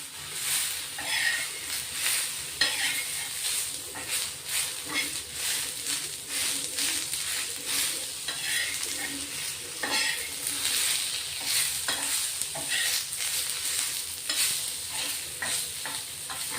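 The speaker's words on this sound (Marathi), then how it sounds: "एक मोठा टोमॅटो घेतलाय, तोही आपण याच्यात थोडा परतून घेणार आहे।" Tomato being stirred and sautéed into a chicken mutton masala in a pan, giving a steady close sizzle with repeated scraping stir strokes throughout, no talking.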